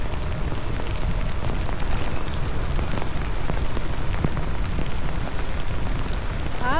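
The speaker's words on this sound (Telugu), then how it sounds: "దారుణంగా వానుంది అసలుకి చెప్పాలంటే." Heavy rain pours steadily and loudly during a motorbike ride, a dense, unbroken hiss of drops hammering surfaces close by.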